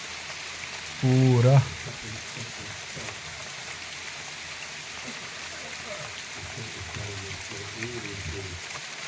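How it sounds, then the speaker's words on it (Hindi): Hailstones fall continuously in a Uttarakhand village, a steady close patter of pellets, with a voice speaking briefly near the start. "देखिए कंटिन्यू ओले पड़ने शुरू हो गए हैं।"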